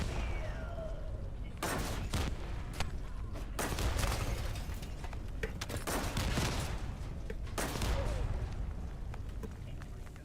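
Video game gunfire in The First Descendant using impact rounds, heard as dense, sustained bursts of rapid shots with heavy booming impacts, loud and close, with brief lulls between volleys and a voice talking.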